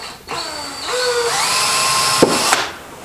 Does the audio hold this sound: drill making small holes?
yes